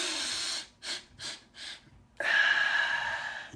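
A deep breath drawn in and let out: a few short airy inhalation puffs give way to a long, steady, breathy exhale, close and soft with no talking.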